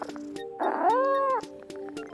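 A cat at an ASPCA adoption center gives a single drawn-out meow with a rising then falling pitch, close and clear against a quiet room, with a few soft clicks and thumps around it.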